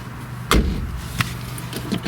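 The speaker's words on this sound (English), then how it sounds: "even for a little tinny door, it has a nice solid closing sound" The door of a Mazda MX-5 Miata sports car shuts with one firm, solid thump, followed by a couple of fainter clicks and knocks close by, with no talk over it.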